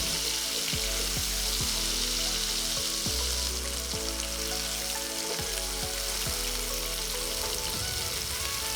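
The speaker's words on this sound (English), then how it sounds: "I'm adding in the paneer. And gently turn them over and fry them." Paneer cubes fry in a pan for paneer fried rice with a steady, loud sizzle, and a spoon turns the pieces with repeated light scrapes against the pan. No one speaks.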